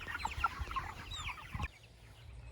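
Chickens cluck busily in a pen outdoors, many overlapping short clucks and calls at moderate distance, which break off abruptly and leave a quiet background.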